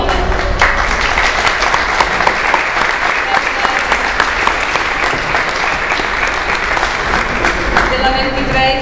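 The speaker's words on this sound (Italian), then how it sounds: "innanzitutto un applauso di benvenuto perché oggi è l'inaugurazione." Audience applause welcoming the opening of an evening concert of opera and flute duo music at Sala Flaiano in Pescara; dense, steady clapping continues loud and unbroken for the whole stretch.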